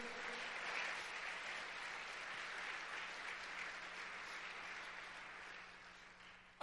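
Congregation applause in a church during a Spanish-language sermon on Jonah, a steady wash of clapping that stays even for several seconds and thins slightly near the end.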